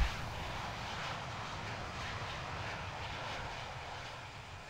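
Fighter jet engine in the Infinite Flight flight simulator video game, with a steady, faint, broad roar that holds an even level throughout and has no talk over it.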